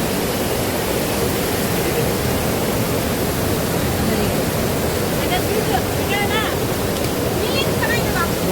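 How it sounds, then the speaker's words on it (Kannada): Water pours forcefully over rocks at a waterfall near Chikmagalur, a steady, loud, broadband rush filling the whole stretch, with faint higher chirps or voices briefly poking through near the end. "ಇಲ್ಲಿ ಫಾಲ್ಸು ತುಂಬ ಜೋರಾಗಿ ನೀರು ಹರಿತಾ ಇದೆ"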